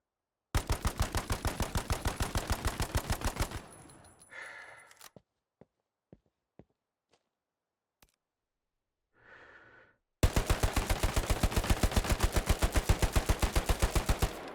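Sustained automatic fire from STG and BAR rifles in Hell Let Loose, long rapid bursts of loud gunshots at the start and end, separated by a quieter stretch of breathing and a few isolated clicks.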